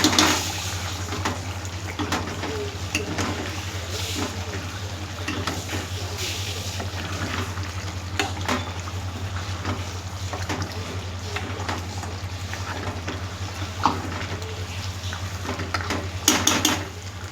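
Spices being fried and stirred in a pan for goat leg curry, with scattered clinks and scrapes of a spoon against metal over a low constant hum, irregular and moderately quiet.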